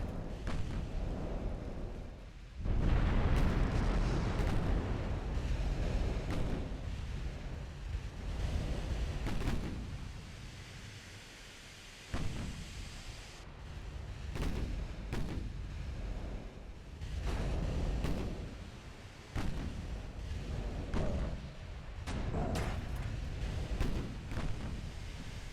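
Naval gunfire from warships in the video game Ultimate Admiral: Dreadnoughts, heavy booming cannon blasts repeating at irregular intervals amid rumbling explosions and a continuous roar of sea and battle.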